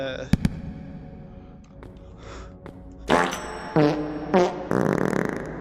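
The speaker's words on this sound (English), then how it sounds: "flying towards our next item, it is the whoopee cushion" A whoopee cushion in the video game Animal Company lets out four blaring fart blasts in quick succession, following a quieter opening with a couple of sharp clicks.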